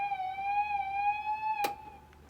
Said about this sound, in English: The siren is one of these things.